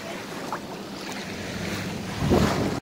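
Waves and wind at Kite Beach in Dubai, a steady broad roar of surf and gusting air against the microphone, swelling slightly toward the end.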